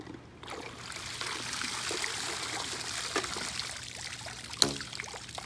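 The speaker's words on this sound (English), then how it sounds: "Get rid of all the water in the RoboVac." Water pours and trickles steadily close by as it is emptied from a robotic pool vacuum, a continuous splashing flow with a sharp knock near the end.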